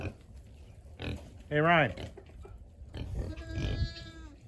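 Farm pigs grunt and squeal while a person speaks briefly, with a loud squealing oink standing out among lower grunts and a rougher snort near the end.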